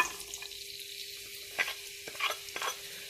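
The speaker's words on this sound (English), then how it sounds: "And to this I will be adding in my chopped onions" Chopped onions go into a pan of hot oil with a cinnamon stick and fry with a quiet, steady sizzle, broken by a few brief stirring scrapes and clicks, soft and close.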